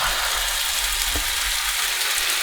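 Omelette mixture frying in a hot pan over cooked potatoes, a steady broadband sizzle with one brief soft knock midway, close and continuous with no talking.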